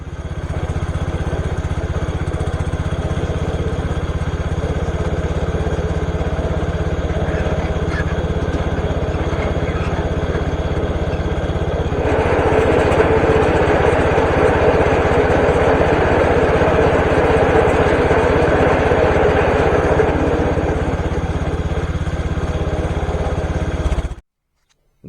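A CASE IH K-84 Snowcaster snow blower engine runs steadily for the whole stretch with a moderate, even hum and drone. Partway through it grows louder and rougher, and it stops abruptly at the end.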